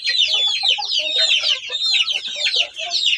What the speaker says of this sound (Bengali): দুই জাতের মুরগি টাইগার মুরগি এবং দেশি মুরগি